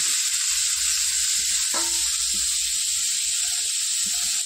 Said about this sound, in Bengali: ওদিকে সবজিটা ভাজা হতে থাক, আর এদিকে সুজিটা ভেজে নেব।